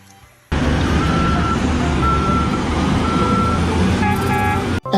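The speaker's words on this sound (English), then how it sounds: "yang ini ada mining dump truck" Toy mining dump truck sounding rapid, evenly spaced electronic reversing beeps over a loud buzzing motor hum, starting abruptly after a quiet lead-in and continuing close and steady, then shifting to a different tone near the end.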